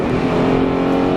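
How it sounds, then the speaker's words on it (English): A Honda Odyssey EX minivan downshifting and pulling hard on a test drive, a loud, steady engine drone heard from inside the cabin with no talking. "downshifts well and pulls well"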